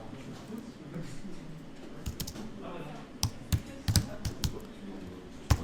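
Keys clatter on a computer keyboard in quick irregular bursts, close and crisp, with sharper taps toward the end over a soft room background.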